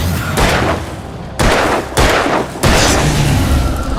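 Heavy gunfire booms in Alan Wake: several loud, close shots land about half a second apart, each followed by a dense, rumbling echo.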